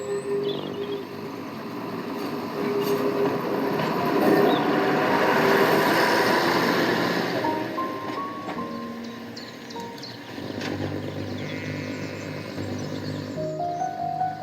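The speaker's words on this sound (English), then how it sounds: "we see a train passing the village of Loaders at the start of the incline to Powerstock" A 1975 train on the Bridport branch line rumbles past the village of Loaders at the foot of the incline to Powerstock, a steady mid-distance roll that swells and fades over about fourteen seconds, with no talk.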